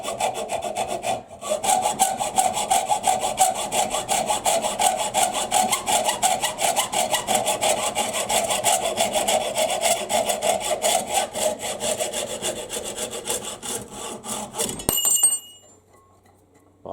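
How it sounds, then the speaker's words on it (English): Handheld hacksaw cutting through gummy metal stock, a loud, close, steady run of rapid rasping back-and-forth strokes lasting about fourteen seconds, then stopping abruptly into near silence. "I'm going to cut this off with a handheld hacksaw"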